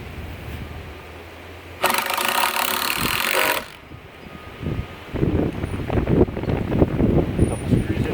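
Power drill driving a screw into the wood of a raised garden bed, a loud whirring burst of about two seconds, followed by handling knocks and clatter amid outdoor wind noise.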